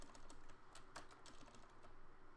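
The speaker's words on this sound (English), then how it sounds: "Yeah, the typing." Rapid, steady clicking of fast typing on a computer keyboard, quiet and continuous, with no talking over it.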